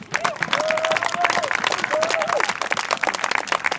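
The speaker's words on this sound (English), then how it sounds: "I know it's a bit weird, quick clapping" A crowd at an Extinction Rebellion climate march for the G7 in Cornwall claps and cheers outdoors, dense steady applause with shouts and voices rising over it throughout.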